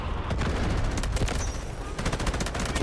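Rapid bursts of gunfire in the video game Delta Force, including an M249 light machine gun, crackle continuously, loud and close, with overlapping volleys like automatic weapons firing in a busy battle.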